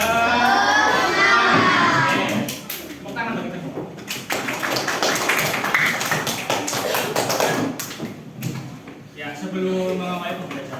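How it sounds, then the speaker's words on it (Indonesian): Schoolchildren in a classroom doing a rhythmic clapping cheer, a burst of sharp claps in patterned rhythm mixed with children's voices and chanting, loud and close. "Oke, yuk, tepuk semangat."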